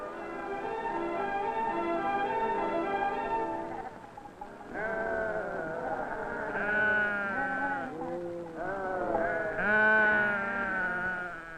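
Several goats bleat in long, wavering calls, one after another and sometimes overlapping, fairly close and clear with no talking.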